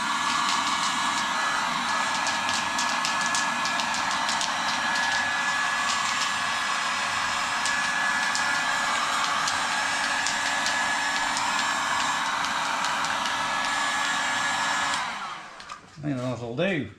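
A hair dryer blows steadily and loudly while drying the corners of a boat, a constant whooshing roar that runs for about fifteen seconds before cutting off, followed by brief handling noise.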